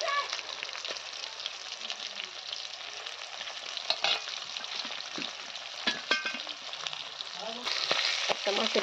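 Fish roe frying in hot oil, an ongoing crackling sizzle with occasional louder pops and scraping stirs, close and steady.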